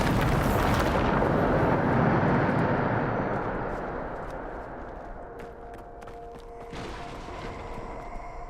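A Bombarda explosion spell from Hogwarts Legacy bursts into a loud, broad roaring blast that rumbles for a few seconds, then thins into a lingering crackling tail with faint ringing tones.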